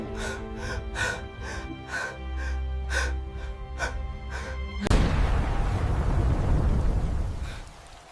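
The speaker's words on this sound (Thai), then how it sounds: "ใครบางคนไปเหยียบกับระเบิด" A loud landmine explosion bursts in with a sharp boom and a long rumbling roar that slowly fades, following a stretch of repeated tonal pulses.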